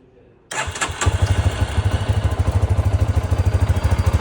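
A Lifan KPT 250 motorcycle engine cranks with a brief whirr and catches, then settles into a loud, steady, rapidly pulsing idle close by.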